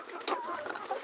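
A large hen on a poultry farm clucking close by, a few short throaty clucks in quick succession with no talking.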